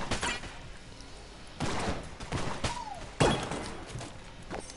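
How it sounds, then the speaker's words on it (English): Shotgun blasts in the video game Enter the Gungeon, several sharp, loud bursts spaced a second or so apart amid other game effects. "I got a good shotgun."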